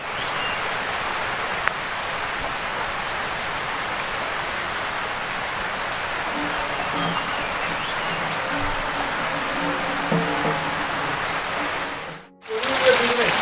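Heavy monsoon rain pours down in Konkan, a dense, loud, unbroken hiss lasting over ten seconds, briefly cut near the end, with faint voices underneath.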